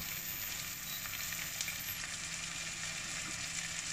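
Chopped bell peppers sizzle steadily in a hot pan with herbes de Provence, a continuous even frying hiss at moderate loudness with no talk.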